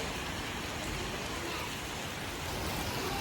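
Dense, steady roar of heavy rain pouring down, constant and loud with no breaks or voices.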